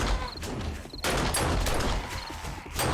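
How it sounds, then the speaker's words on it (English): A pistol fitted with a burst mod in 7 Days to Die fires short bursts of shots, several loud cracks arriving in quick clusters separated by brief pauses. "I did put the burst mod onto the pistol."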